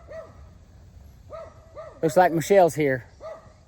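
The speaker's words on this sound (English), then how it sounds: "the dogs are barking" Dogs bark outdoors on a homestead near a hoop coop, a few separate, mid-distance barks spaced out before and after someone speaks briefly.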